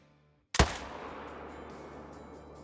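A single rifle shot fired at a mule deer buck 250 yards away cracks sharply out of near silence, then trails into a long rolling echo that holds steady across open country.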